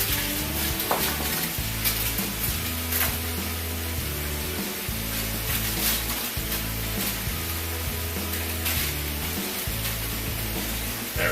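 Seasoned food sizzles steadily in olive oil in a hot pan while being stirred and moved around, a continuous close frying hiss with occasional scraping of utensil against pan and no talking.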